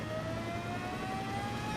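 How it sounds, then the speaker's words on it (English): A helicopter flies overhead during a car race in the video game Gran Turismo 7, a faint steady drone with a slowly rising whine over the hum of race-car engines, with no talking. "Helicopter flying overhead, pretty cool."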